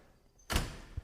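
The door of a 1969 Volkswagen Beetle shuts in a garage with a single sharp, solid thunk after a quiet moment, followed by a softer low knock of the latch settling.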